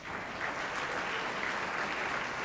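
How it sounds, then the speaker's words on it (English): Steady, dense applause from an audience at the Chicago/Midwest Emmy Awards ceremony, continuous and even throughout without a break. "Give yourselves a round of applause."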